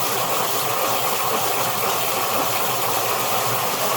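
A vintage German onion skin glass marble spins in a grinding machine, giving a steady, loud whirring hiss with a constant motor drone throughout, no voices.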